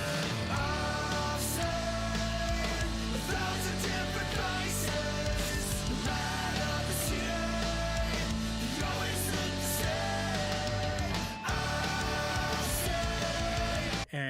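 A full band plays a recorded song, with steady drums, bass and guitars filling the mix at constant volume and a brief break near the end.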